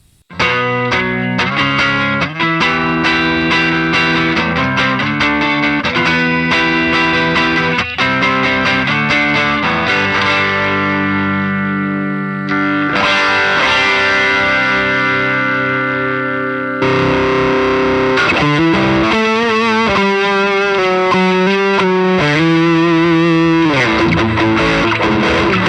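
Electric guitar played through the drive distortion of a Line 6 HX Stomp with a dual-amp preset: loud, sustained, saturated chords and riffs with shifting effects, continuous and upfront, no talking.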